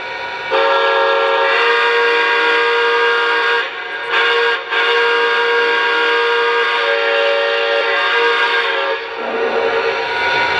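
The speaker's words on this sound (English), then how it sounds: "when you first take this model out of the box, here's the whistle that you'll hear" A loud, sustained whistle from a Lionel Conrail T-1 model train sounds close up, holding a steady chord for several seconds with two short breaks near the middle.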